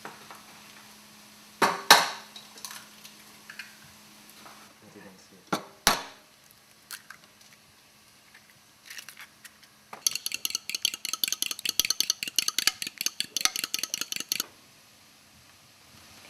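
Four eggs are whisked in a bowl, a fast run of clicking whisk strokes for several seconds, preceded by a few sharp clinks and knocks, close and fairly quiet.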